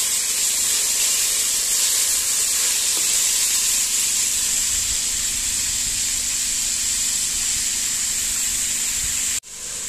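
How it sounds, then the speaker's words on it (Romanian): Onion sautéing in a pot for a cold-remedy soup, a steady bright sizzle that holds evenly for several seconds and cuts off sharply near the end. "Am pus și ceapa, o călim și pe ea"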